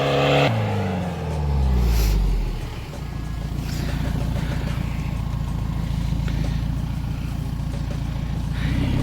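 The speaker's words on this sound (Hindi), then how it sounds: "आप देख सकते हैं गाड़ी कितना स्ट्रगल कर रही है" Car engine revving hard and labouring off-road through thick mud at night, a loud sustained roar with rising and falling pitch, close by and continuous throughout.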